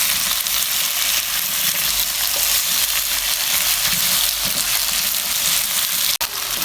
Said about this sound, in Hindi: और आलूओं को हम 2 से 3 मिनट तक भून लेंगे लहसुन के साथ ही।